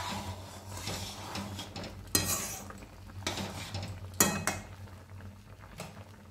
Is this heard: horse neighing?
no